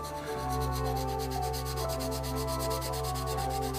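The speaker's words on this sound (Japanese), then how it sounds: "頭だけちょっと飛び出てる頭だけこの600番の硬めのヤスリですね" A hard 600-grit file from the Japanese brand Yasuri no Oyaji sands a small part for a 1/48 Zoukei-Mura F-4E Phantom II model kit. Quick, even rubbing strokes repeat close up over a steady hum, with no talk.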